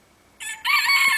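A rooster at a snowy off-grid homestead with bantam chickens crows once: a short opening note, then a long, loud, close cock-a-doodle-doo with no talking.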